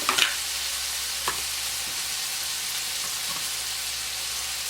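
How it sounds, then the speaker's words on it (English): A steady bubbling hiss of water boiling in a pot, continuous and even, with a few faint clinks near the start. "We have our water on boiling"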